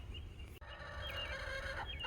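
Chickens cluck and chatter close by in a yard about to be cleared for land work, with several overlapping calls and short rising squawks over steady low background rumble.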